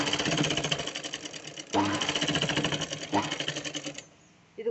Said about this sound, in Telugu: చూడండి, నేను కుట్టు వేస్తున్నాను.